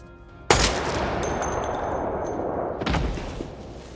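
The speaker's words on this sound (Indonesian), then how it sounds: "Tapi tiba-tiba, Bastian ditembak tepat di kepala, dan tewas di tempat." A sharp, loud gunshot in a crime film cracks out, followed by a ringing metallic tail, and then a second heavy impact a couple of seconds later.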